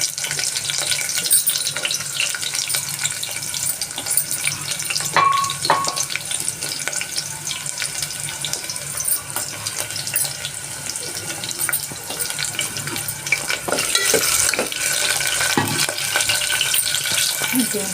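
Chopped onions for mutton curry frying in a hot pan, a steady broadband sizzle with stirring and scraping throughout, close and fairly loud, with no talk.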